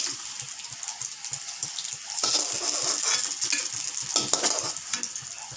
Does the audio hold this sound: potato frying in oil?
yes